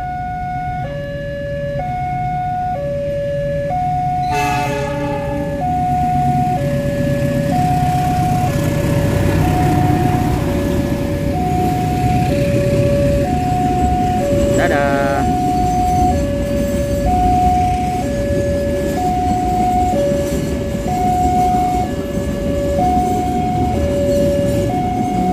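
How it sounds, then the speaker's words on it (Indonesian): A container freight train rolls past near Cirebon, Indonesia, with a steady, close rumble that lasts throughout and a repeating two-note tonal signal chiming over it the whole time. "Ada kereta yang lewat nih di sini nih. Kereta barang kontainer."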